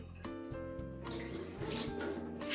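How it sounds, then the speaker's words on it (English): Hot water pouring from a kettle over 75 grams of dried white and red hibiscus in a bowl, a steady gurgling splash that grows fuller and louder as the pour continues. "Add in some hot water until the hibiscus is covered"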